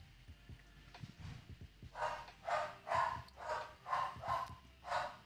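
A dog barks outdoors in a steady series of about eight muffled barks at a moderate distance. Low rumbling and handling noise come first, with no talk.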